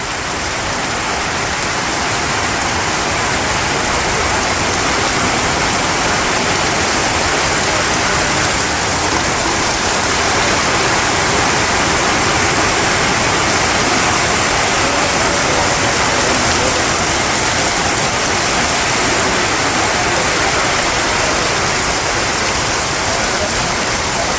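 A downpour drums steadily on a village, broad and loud, a continuous rushing hiss that holds unchanged for the full length and stays close around the listener.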